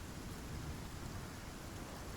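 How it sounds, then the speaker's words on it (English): Steady rain and rumbling thunder of a thunderstorm in the survival game Icarus, a dense, even wash of rainfall with low storm rumble throughout and no voices. "we are getting storm exposure"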